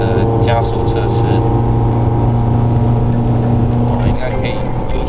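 A van carrying an 850 kg load accelerates up a steep hill, its engine droning loud and steady from inside the cab with a sustained hum throughout.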